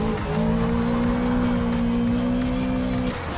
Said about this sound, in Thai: อันดับแรกเร่งความเร็วมา ตบเกียร์ลงเบรกและดึง